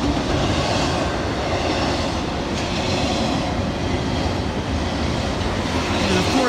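A Norfolk Southern eastbound intermodal freight train, its cars loaded with trailers, rolls past close by with a loud, continuous rumble and rattle of wheels and cars, steady throughout.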